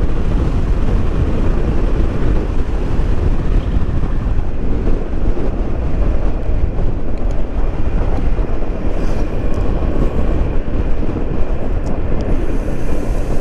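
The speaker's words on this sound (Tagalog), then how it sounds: "Pumapalo yung hangin sa helmet natin." Continuous heavy wind buffeting a motorcycle helmet roars across the whole stretch, a dense, loud rushing noise with no voices.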